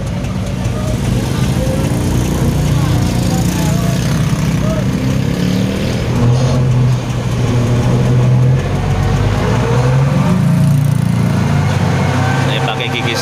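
A Mitsubishi Fuso truck grinds up a steep incline in first gear on a narrow village lane in western Bandung, its engine a loud, steady, heavy rumble with no break throughout.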